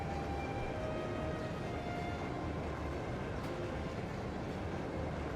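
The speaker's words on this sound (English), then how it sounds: "High-speed train" Steady rumble of a high-speed train in the game Trails of Cold Steel 2, a dense continuous rolling drone with faint tonal whines over it, even and unbroken throughout.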